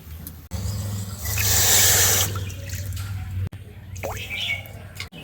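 Water poured into a pan for sugar syrup, a continuous close splashing pour that swells in the middle and then settles into a quieter trickle, with speech over it.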